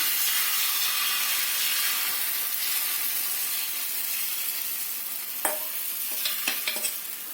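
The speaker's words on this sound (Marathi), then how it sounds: "तेल गरम झालेलं आहे आता त्यावर हे आमलेट पसरवायचं" Egg and paneer omelette batter spread in hot oil, a loud, close, continuous sizzle that eases slightly, with a few scraping stirs toward the end.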